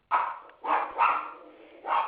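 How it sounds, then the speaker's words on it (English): A pet dog named Miss Coco barks several times nearby, with three or four loud yaps spaced out over two seconds; no talking. "No, that's my dog. That's Miss Coco."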